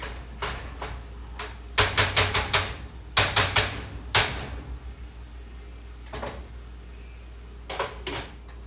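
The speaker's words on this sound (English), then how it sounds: "Sorry, I'm chopping up my pork here." Pork being chopped with a meat chopper during meal prep: sharp knocks on a board come in quick clusters of four or five, then scattered single strikes, close and loud over a low hum.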